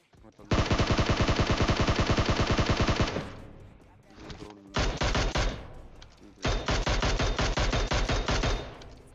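Rapid automatic gunfire in PUBG Mobile at a military-base area, with long sustained bursts separated by short pauses, loud and close, with a voice talking faintly underneath.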